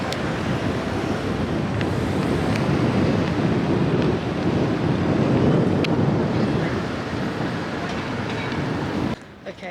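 Strong wind at a busy beach buffets the microphone in a continuous roar, with surf-like rushing underneath, loud and close before cutting off at the end.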